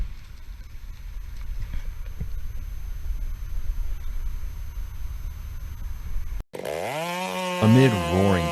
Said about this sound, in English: The sharp chainsaw roars back, tearing into the burning trunk with relentless force.